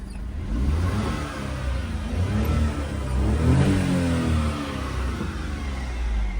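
A car engine revs and spools up, its note rising and falling steadily at close range with a continuous mechanical whir and no talking.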